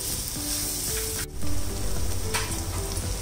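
Spices crackle and fry in hot oil, with ginger-garlic paste and two cut green chillies just added, a steady loud sizzle with small popping bursts and a brief dip before the frying surges back.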